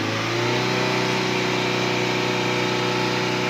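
A car engine held at 4,000 RPM right after an anti-smoke-belching oil additive was poured in, a loud, steady, sustained high-revving drone with strong tonal harmonics and no voices.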